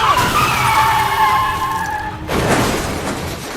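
A car in a dramatic scene skids with long, loud tyre squeals that end abruptly in a harsh crash and a burst of scattered debris noise, with no talking.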